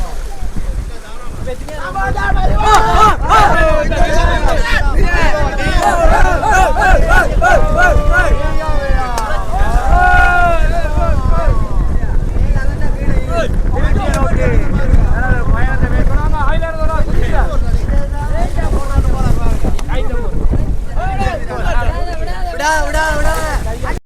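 Racing motorboats on water during a boat race, their engines droning loudly and continuously under heavy wind buffeting and the chatter of spectators and a commentator.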